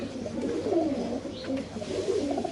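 Pigeons coo softly and repeatedly nearby, low rolling calls overlapping against a quiet background.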